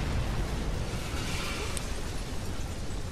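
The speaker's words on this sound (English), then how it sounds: "Big explosion over here." A big in-game explosion in the first-person parkour game Mirror's Edge: Catalyst, a dense, sustained roar of blast rumble and debris that stays loud and steady throughout.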